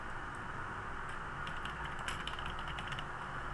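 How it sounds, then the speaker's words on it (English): Fingers type on a computer keyboard in quick bursts of light clicks, faint and close, over a steady background hiss. "and boy, that's a horrible job typing"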